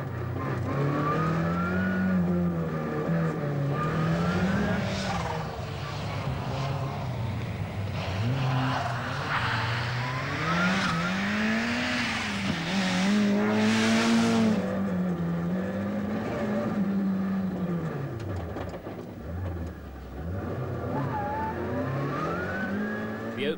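Rally cars at speed on forest stages of the 1988 British Open Rally, a loud engine note rising and falling steadily through gear changes for the whole stretch, with a roar of acceleration near the middle.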